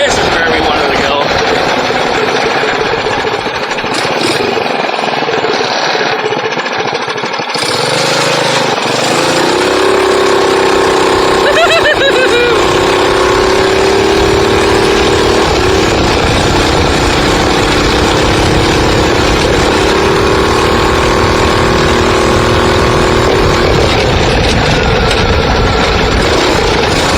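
A stock Coleman KT196 go-kart engine runs loud and continuously, a harsh rattling buzz that settles into a steady roar and climbs in pitch as it revs.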